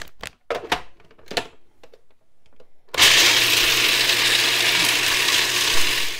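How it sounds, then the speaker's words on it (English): Food processor grinding pistachios: a few sharp clicks and knocks at first, then the motor starts abruptly into a loud, steady whirring grind that continues without a break. "I'm going to grind the pistachios up in this food processor"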